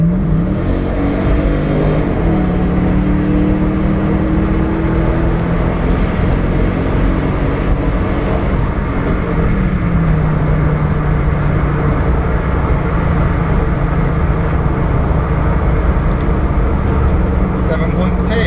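A £700 Mercedes CLK 430 accelerates hard from 60 to 100, its engine note rising steadily in loud, continuous pitch sweeps that reset at each gear change, with heavy road and wind roar throughout.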